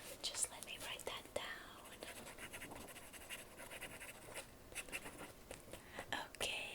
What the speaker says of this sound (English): Just let me write that